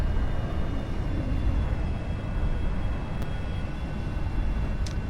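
A light aircraft taxis toward the apron in X-Plane, its engine a steady, droning hum with a faint whine, constant and unbroken throughout.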